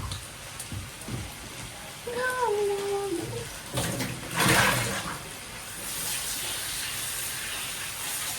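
Brinjals are rinsed again in water, with splashing and running water rising and falling close by, plus a short tonal squeak in the middle.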